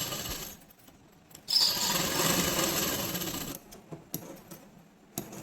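Sewing machine stitching a fabric strip on a night dress: a steady, fairly loud mechanical whir for about two seconds, followed by scattered clicks and handling taps.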